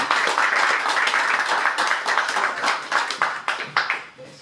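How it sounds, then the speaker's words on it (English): A literary event audience claps for a poet, first as full applause that thins into scattered, distinct claps toward the end. "So how about a final applause?"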